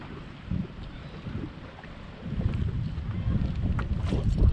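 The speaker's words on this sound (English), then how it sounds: "I really just don't like for my videos to just be a bunch of wind noise" Wind buffets the microphone on a fishing boat out on the water during a crappie trip in 10 to 20 mph winds, a steady low rumbling roar that grows heavier and gustier partway through, with no talking.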